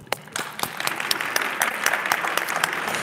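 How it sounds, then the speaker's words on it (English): A press-conference audience at a Dallas arts month kick-off breaks into a dense round of applause, many hands clapping close and steadily with no voices over it. "So you all actually deserve a round of applause."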